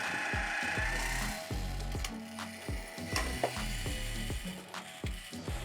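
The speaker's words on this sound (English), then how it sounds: "I can see that the grinding disc drops down with every turn on the knob" Adjustment knob turned counterclockwise on a LOGOSOL Grindlux band saw blade sharpener, lowering the grinding disc, giving a close, steady run of sharp ratcheting clicks, about two per second.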